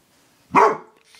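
A dog gives one loud, sharp bark at a remote-controlled toy robot, close and alone against near silence.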